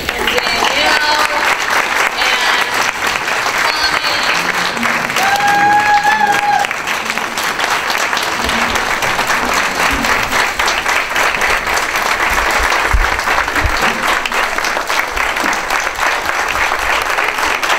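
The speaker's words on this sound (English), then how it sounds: "I want everybody to give a big round of applause to Sherry and Sharon and Danielle." An audience at a women's club meeting breaks into sustained, dense applause that carries on steadily for the whole stretch, with faint voices and a few brief whistle-like tones mixed in.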